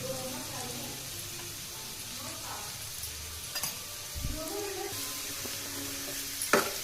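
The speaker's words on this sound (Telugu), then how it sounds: "కొంచెం ఇట్లా అదంతా పోయే వరకు వేయించుదాం" Ingredients for coriander rice fry in a pan under a steady, moderately quiet sizzle, with occasional stirring scrapes and a light clink near the end.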